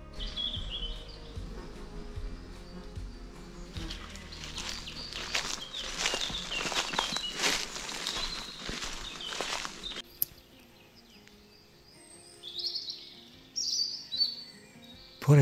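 High in mountain nature, birds chirp and call while a swarm of insects hums in a dense buzzing wash for several seconds, then scattered birdsong rings out faint against quieter surroundings.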